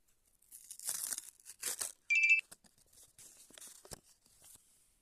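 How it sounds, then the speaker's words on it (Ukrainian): Crisp plastic tearing and crinkling in short bursts as a surprise packet is opened, with a brief electronic beep in the middle; quiet and close, no talking. "Так, сейчас буду распаковывать."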